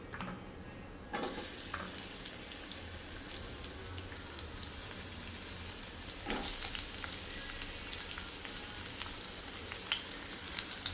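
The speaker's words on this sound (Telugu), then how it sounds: "సో ఆనియన్ బాగా వేగనిద్దాము" Onions sizzle steadily in a hot pan for butter chicken, a continuous broadband frying hiss with a few louder bursts as they are stirred and tossed, no talking.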